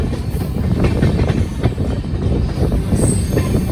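A long 21-coach passenger train, the Chandigarh–Madurai SF Express, rumbles through Yamunanagar station, with steady loud wheel roar, rail clatter and brief squeals continuing throughout, close by.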